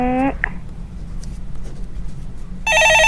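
A telephone rings on a Korean stock market call-in broadcast, a short electronic ring at the start and another at the end, clear over a low background hum.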